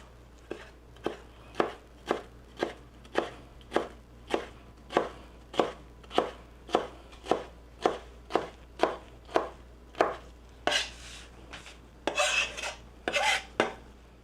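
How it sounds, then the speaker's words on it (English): A knife chops poblano peppers into roughly half-inch squares on a cutting board, about twenty steady, evenly spaced close thunks with a faster flurry of cuts near the end, no voices. "Go ahead and cut up those poblanos pretty much the same way you did the other chilies"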